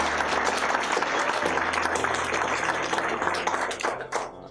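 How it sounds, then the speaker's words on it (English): Wedding guests burst into sustained applause, a dense, steady wash of many hands clapping close by that holds for several seconds before thinning out at the end. "So a quick round of applause to Steph."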